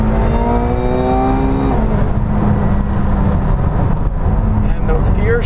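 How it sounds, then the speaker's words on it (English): A McLaren 720S with 710 horsepower accelerating hard from inside the cabin, engine note rising steadily then dropping sharply at a gear shift before climbing again, loud and constant with road roar underneath. "Those gear shifts."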